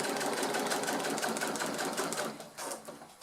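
A sewing machine with a Teflon presser foot stitches waterproof plastic onto fabric for a beach pouch, running in a fast continuous rattle up close, then briefly slowing and pausing near the end.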